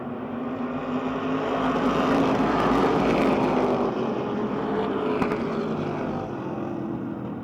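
Street stock race cars run on the asphalt oval at Motordrome Speedway, making a continuous, fairly loud engine drone that swells and eases as the pack passes, with no talk.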